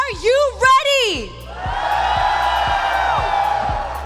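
Large arena crowd at a Mobile Legends: Bang Bang esports tournament final in Malaysia roaring and cheering loudly and continuously after an announcer's shouted call.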